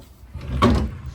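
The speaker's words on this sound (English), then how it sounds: "Pulling out the drawers, they're fine," Wooden drawers of a low four-drawer dresser in an inn room slide out with a short, muffled scrape and knock, one brief close sound.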